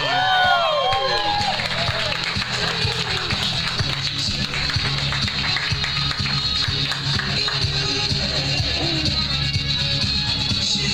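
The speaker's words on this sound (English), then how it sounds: "Let's cheer him on." Wedding guests at a reception clap and cheer in a lively, sustained roar of crowd noise, with whoops rising early and a steady wash of applause under a speaking voice.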